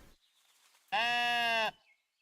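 One loud sheep bleat in a video game, a single clear wavering cry lasting under a second, close and isolated against near silence.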